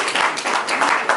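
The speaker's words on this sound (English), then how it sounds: "Let's give her a round of applause." Audience applause for a speaker at a social enterprise event, a dense, steady wash of clapping hands filling the short stretch at fairly high level, with no speech over it.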